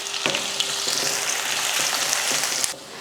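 Onions and curry leaves fry in hot oil for a dry fish curry, giving a steady, dense sizzle with faint stirring clicks throughout, close and loud, before it drops off sharply near the end.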